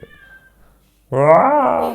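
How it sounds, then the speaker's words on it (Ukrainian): A rescued kitten, saved from a burned-out cat shelter and unhappy about being treated, lets out a loud, drawn-out meow close by after a brief quiet lead-in. "Бач, це кошеня ми врятували з її згорівшої котобази."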